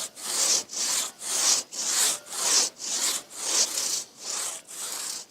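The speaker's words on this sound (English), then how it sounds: "Then it's back to sawing the other side to meet up with the cut." A hand saw rasps through a tree trunk during felling in a Victorian-era farm setting, with steady back-and-forth strokes of about ten loud, rhythmic pulls, close and with no talk.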